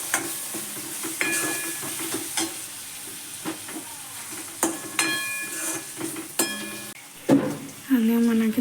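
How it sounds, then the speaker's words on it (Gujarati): Tomatoes stirred into a frying gravy for a Gujarati dried black-eyed pea curry, with a soft sizzle under scattered utensil clinks and scrapes and brief voice sounds. "હવે નાખી દઈએ ટમેટાં. અને ટમેટાને પણ મસ્ત રીતે આમાં ચડી નાખીએ."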